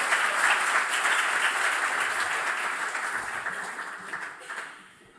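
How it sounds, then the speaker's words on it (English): Round of applause at an honours programme closing ceremony, dense steady clapping from a sizeable audience that holds for several seconds before tapering off at the end. "One round of applause."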